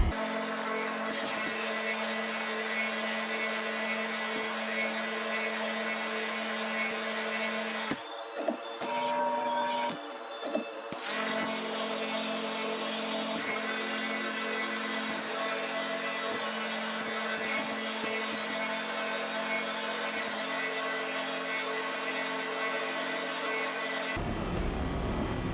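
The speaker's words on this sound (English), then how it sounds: "I won't make you watch me scrape this whole panel or all these panels" Salvage scraping of ship hull panels in Star Citizen: a steady, droning mechanical hum with a rough grinding texture runs almost continuously, broken by a short pause in the middle, then cuts off at the end.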